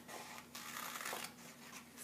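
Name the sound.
scissors cutting paper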